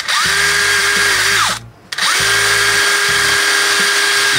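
A rotary tool with a burr grinds a plastic handle, giving a loud, close, high-pitched whine that runs in two long bursts separated by a short pause, with no talking.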